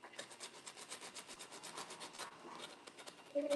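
Steady rhythmic rasping of sandpaper scraping back and forth over a painted wooden dresser, sanding off paint, close and continuous, with no talking.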